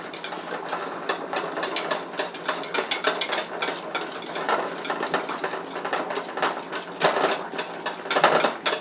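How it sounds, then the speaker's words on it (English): A spoon stirs homemade vanilla pudding thickening in a pot, making quick, rhythmic scraping and clinking against the metal that continues close and steady throughout. "Stir that in"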